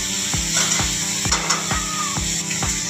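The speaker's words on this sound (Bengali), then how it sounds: "দিদি কিন্তু ওখানে রান্না করছে" Food frying in a pan in a home kitchen, a steady close sizzle carrying throughout with regular knocking or scraping taps about every half second, no one talking.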